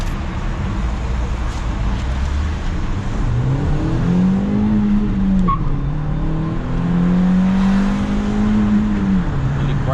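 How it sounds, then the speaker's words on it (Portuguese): A Fiat Cronos 1.3 car pulls away from a toll booth, its engine note rising in two smooth sweeps over a steady bed of road and cabin rumble, moderately loud and continuous. "eu vou dar uma aceleradinha, só para vocês terem uma ideia de aceleração do carro mesmo"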